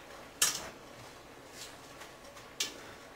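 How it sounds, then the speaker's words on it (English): A spoon clinks against a pot while cabbage and potatoes are stirred, giving two sharp metallic knocks with softer scraping between them, close and otherwise quiet. "I'm going to mix a little because the cabbage on the bottom is getting done"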